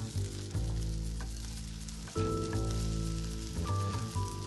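Day-old cooked rice hits a hot pan with scrambled egg and green onions, giving a steady, close sizzle and frying crackle with a few sudden louder surges as it is tossed.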